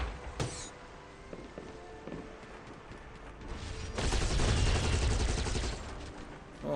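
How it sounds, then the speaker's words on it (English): A machine gun in the video game Giants: Citizen Kabuto fires a few scattered shots, then lets out a loud, sustained rattling burst that holds for a few seconds before it cuts off. "What is this? Machine gun?"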